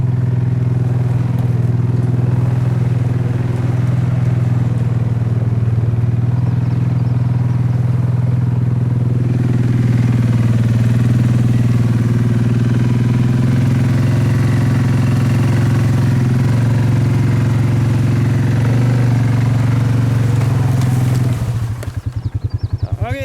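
An off-road vehicle with narrow mud tires drives a muddy, snowy trail, its engine droning loud and steady up close for the whole stretch, then stuttering roughly near the end.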